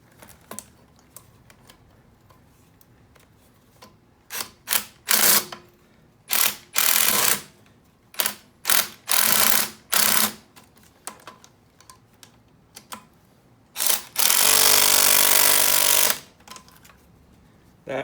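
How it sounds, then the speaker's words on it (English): Speed wrench spun on a bolt of a Honda SL70K1 motorcycle, producing loud, close bursts of rapid ratcheting clatter that start and stop repeatedly, ending in one long sustained whirring run, with no talking. "I wonder if I get my speed wrench thing up in there"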